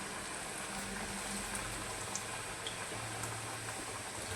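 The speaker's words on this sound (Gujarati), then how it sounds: "આપણે તેલ આવી ગયું છે, એમાં આપણે જે આ ચિપ્સ હતી એ ચિપ્સ નાખવાની છે" Elephant foot yam (suran) chips sizzle steadily in hot oil, a dense, even frying hiss with faint bubbling that holds at a constant level throughout, no voices over it.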